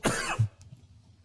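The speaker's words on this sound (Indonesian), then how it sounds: "di saat penjelasan mungkin saya masih ada batuk-batuk" A single sharp cough during an Islamic religious lecture, followed by a brief throat-clearing rumble, close and alone against quiet room tone.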